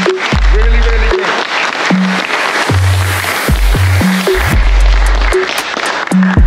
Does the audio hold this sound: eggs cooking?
no